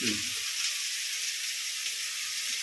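Prawns fry in a pan with tomatoes and onions for a prawn biryani, giving a steady, close sizzling hiss that runs evenly throughout with a brief low stir or clatter at the start.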